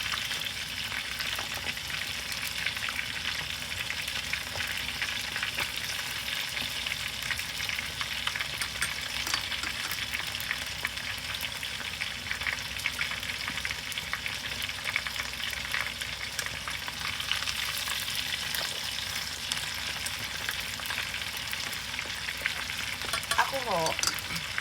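Chicken karaage sizzles steadily in hot frying oil, a continuous bright crackle with scattered pops running the whole time at close range, with no one talking.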